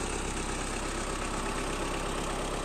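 A mini tractor hitched to a homemade water trailer idles steadily, a dense, constant engine drone with a slight knocking rumble, close and loud, no talk.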